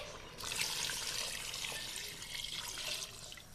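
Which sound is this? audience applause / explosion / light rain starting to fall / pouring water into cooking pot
pouring water into cooking pot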